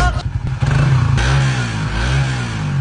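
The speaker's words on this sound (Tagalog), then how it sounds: "dapat bago tayo umalis na painit yung makina ng motor natin" A motorcycle engine idles while warming up before a ride, a close, loud, steady rumble with a rough clattering start and slight revving swells.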